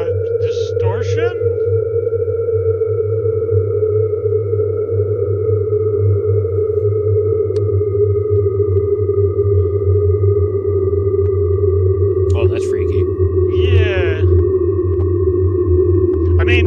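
Video game I'm on Observation Duty plays a distortion effect at a security desk, a loud sustained electronic drone with steady humming tones and brief warbling glitches near the start and end, with no talking over it.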